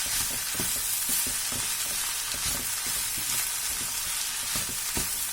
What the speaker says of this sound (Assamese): এতিয়া মই ভাজিম আৰু 2 মিনিটমান সময়